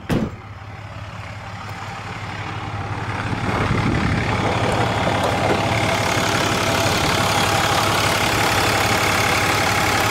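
A 2007 Dodge Ram 3500's 6.7-liter Cummins turbo diesel inline six idles with a steady, loud, low rumble that swells slightly after starting up, then holds constant.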